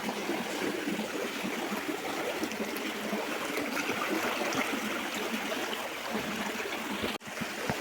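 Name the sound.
water flowing in a small stream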